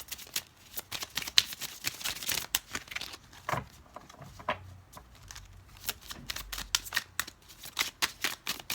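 Tarot cards are shuffled close up, a long run of quick, soft riffling flutters and slaps with short pauses between bursts.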